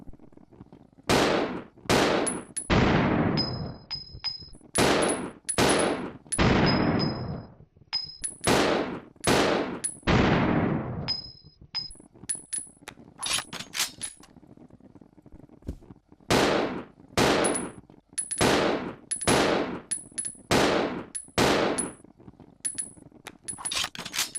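Colt 1911 handgun fired repeatedly in Resident Evil Zero, a series of loud, sharp single shots with decaying echoes and brief gaps between them, interspersed with small metallic clinks.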